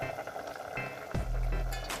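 Cashew vegetable curry sizzles and crackles in a hot pan on a wood stove, a steady frying hiss that swells louder and fuller toward the end, close by with no talking.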